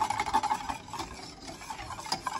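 Milk fudgsicle mixture stirred almost continuously in a pot on a lit burner, with steady soft scraping and light clinking of the utensil against the pot, close and fairly quiet, with no talking.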